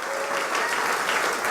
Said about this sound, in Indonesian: Beri tepuk tangan yang luar biasa untuk Tuhan kita.